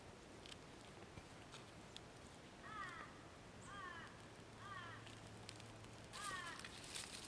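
Crow calling at dusk in the Australian bush during winter, a few short harsh caws repeating at a distance over a low steady background rumble.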